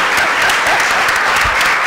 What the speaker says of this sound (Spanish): que le dé suerte este aplauso que le vamos a dar a Jimena con todo lo que se lo merece